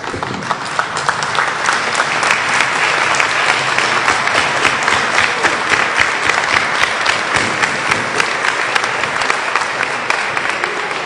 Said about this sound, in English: Please stand up and give a round of applause for yourselves.